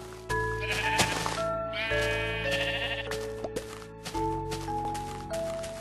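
Several sheep bleats from the Minecraft video game, spaced across the clip over a steady synthetic in-game background tone, with no talking.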